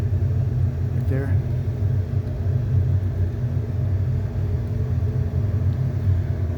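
A waste oil burner heater turned down low gives a steady, loud, low rumbling roar that holds unbroken throughout, with no other distinct sounds over it.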